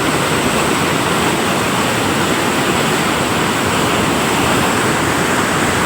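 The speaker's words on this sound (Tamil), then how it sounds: "இதில் தான் வந்து சேத்தியாத்தோப்பு ஆற்றுக்கு தண்ணி திறந்து போயிட்டுருக்கு." Water released from Veeranam lake rushes into the river toward Sethiyathope, a loud, steady roar of heavy flow that fills the whole stretch without a break, with no voices over it.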